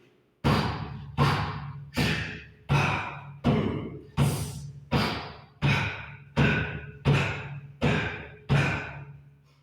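Eleven evenly spaced, sharp thuds from the outer edge of a hand striking a surface in iron fist hardening training, each hit followed by a short decaying ring, close and steady in rhythm.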